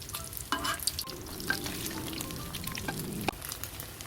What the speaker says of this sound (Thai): จะทอดให้ข้าวมันสีเข้มนิดนึงนะคะ ให้มันกรอบนะ